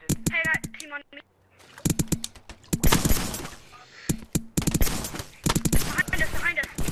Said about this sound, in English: Oh, we're getting shot at. Oh, we're taking fire, taking fire.